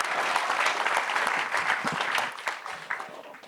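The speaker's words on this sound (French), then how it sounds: "Michel, merci, on peut vous applaudir" A seated audience at a French digital transformation interview session applauds Michel Paulin of OVH Cloud, a dense, fairly loud wash of many hands clapping that holds steady, then thins and fades toward the end.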